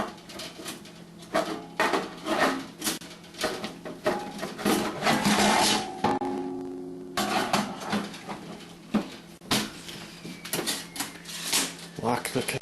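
A Statim autoclave cassette has its lid locked and is slid back into the machine, giving a run of sharp plastic and metal clicks and clatters with brief pauses, close and fairly loud.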